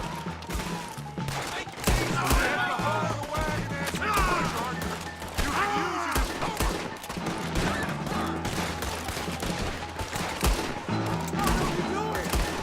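A chaotic Wild West shootout in Red Dead Redemption 2 crackles with dense, overlapping rifle and revolver shots throughout, loud and continuous, while characters shout at each other over the gunfire.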